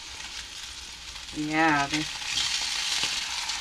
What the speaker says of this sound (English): See, I'm on low and look how it's sizzling.